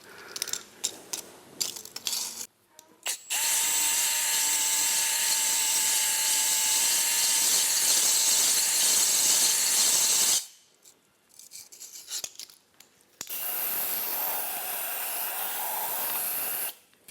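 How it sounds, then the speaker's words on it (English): A drill-driven cylinder hone spins through the engine bore of a Holden VL Commodore RB30E turbo motor, a steady loud grinding whir running for several seconds, stopping, then starting again after a few short bursts. "So I'm just going to run this hone through there and see if it will clean up"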